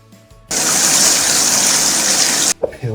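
Water gushes from a tap into a rubber glove in one loud, steady rush lasting about two seconds, then cuts off abruptly with a small splash.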